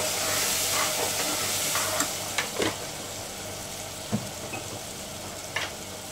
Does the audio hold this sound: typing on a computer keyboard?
no